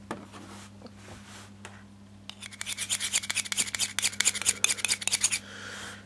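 Thin airbrush paint and thinner stirred briskly in a small cup, a quick run of close scraping, clicking strokes after a few quiet seconds, with a low steady hum underneath.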